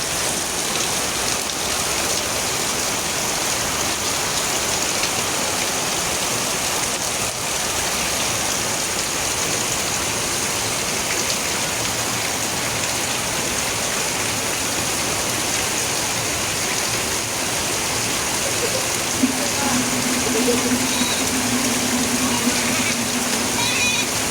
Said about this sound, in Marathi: पाऊस तर एकशे टक्का येणारच होता आणि आला सुद्धा पाऊस